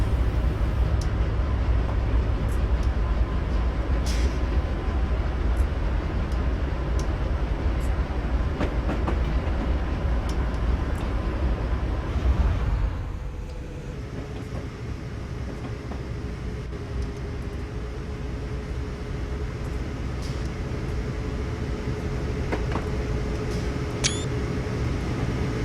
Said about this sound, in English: got another BNSF train coming the other way